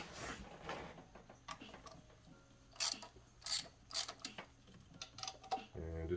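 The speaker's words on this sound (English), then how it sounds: "switch over to my stubby, just because you don't want a lot of torque on it, or you can use your regular ratchet" A stubby ratchet works on the thermostat housing bolts of a Chevy Tahoe LTZ with a 5.3-litre engine, making quiet bursts of rapid clicking close up, with a faint low hum underneath.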